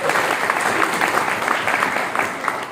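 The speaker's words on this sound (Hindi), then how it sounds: "उनके लिए ताली बजानी चाहिए" An audience at a SPARK World gathering claps for a teacher's achievement: a loud, sustained burst of many hands applauding together, even and continuous throughout.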